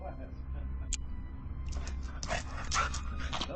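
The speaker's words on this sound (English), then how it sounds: "we see the pet owner's current dog, Shiloh, standing outside the home" A dog outside a home yips and whimpers excitedly in short bursts over a steady low outdoor hum, with a voice faintly underneath.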